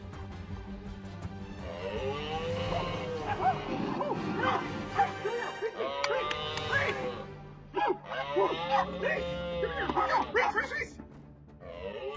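A small dog barks and yips repeatedly at a moose, sharp high excited bursts in uneven clusters, with whimpering between them and a brief lull near the end.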